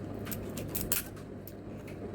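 Scissors snip open the packaging of a lipstick from an online cosmetics order, with a few faint, quick cuts in a quiet room.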